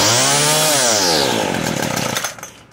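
Craftsman 25cc weed trimmer engine revving hard, then sagging as it struggles to idle, the pitch sliding down and the engine sputtering and nearly dying near the end.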